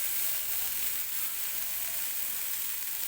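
Corn kernels roasting in a kadhai give a steady, close sizzling hiss that runs unbroken throughout, with no talk over it.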